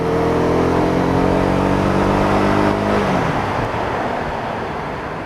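A Honda CB 250 R motorcycle accelerating, its engine note rising steadily and loud and close, then breaking off into a broad rush of wind and road noise as it keeps moving.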